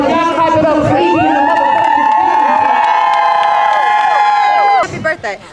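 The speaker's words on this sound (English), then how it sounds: "Y'all clap it up for Ezee." Crowd at a birthday party breaking into loud, sustained cheering and whooping, voices held together in one long shout before it cuts off abruptly near the end, with little distinct clapping.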